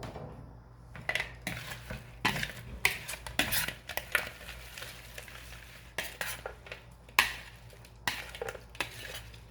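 Chicken wings coated in pineapple sweet chili sauce are tossed around in a bowl, giving repeated close sticky clatters and scrapes in irregular bursts with short pauses between.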